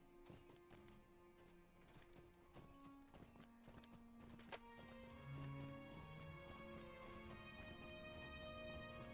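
Mounted horse in the LOTRO online game, with a steady clip-clop of hooves trotting under soft game music and ambience, fairly quiet and continuous.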